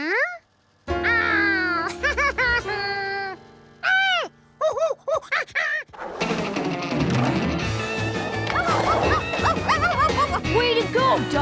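Cartoon dog barking and yipping in short bursts from a kids' animated show, the barks mixed with other character voices and a busy music score that swells in the second half.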